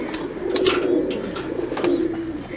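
Fancy black cherry pigeons, a breeder pair on a farm in Pakistan, giving soft low coos close by, with light rustles and brief clicks, no talking.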